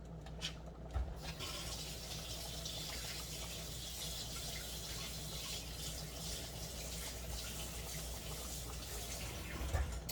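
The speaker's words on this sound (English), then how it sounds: "Let me get another spoon or wash my spoon." Tap water runs steadily as a spoon is rinsed under it in a home kitchen, giving a continuous, soft, hissing splash that stays fairly faint throughout.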